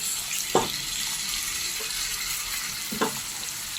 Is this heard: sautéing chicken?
yes